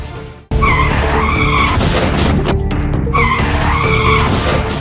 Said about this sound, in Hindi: बाइक फिसली तो बाइकर सामने से आ रही बोलेरो की चपेट में आ गया